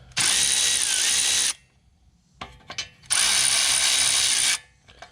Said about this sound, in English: Being an idiot and getting my ratchet stuck.